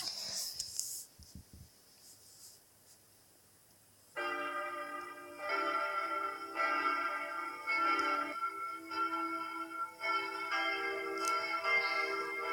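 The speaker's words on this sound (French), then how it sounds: "Voilà, sur la cloche de tintement." A church bell in the game Block Craft 3D rings with steady, evenly spaced strikes, each ringing out with a bright, sustained metallic tone, after a few seconds of near silence.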